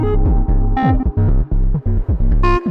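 Modular synthesizer patch run through reverb, playing a loud, rhythmic sequence of pulsing, pitched tones with bright sweeping accents, dense and continuous with no talk.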